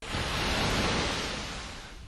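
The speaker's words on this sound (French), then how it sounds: "ces vagues qui viennent mourir sur la plage de Thiaroye-sur-Mer" Sea waves break on the beach at Thiaroye-sur-Mer in Senegal, a steady broad wash of surf that swells and slowly eases over about two seconds, with no voices.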